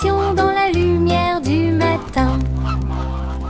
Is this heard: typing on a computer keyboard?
no